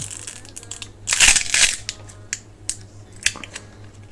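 A Realme 7i phone battery is pried loose from its adhesive during a home screen replacement, giving a close crackling, tearing burst followed by scattered clicks and small handling noises.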